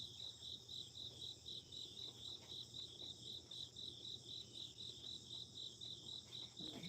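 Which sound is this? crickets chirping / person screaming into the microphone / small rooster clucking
crickets chirping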